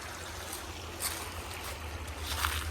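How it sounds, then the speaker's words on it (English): Steady rushing of creek water rolling and flowing past a yard, a continuous broadband wash heard from a short distance with no talking. "I can hear that water rolling from my porch."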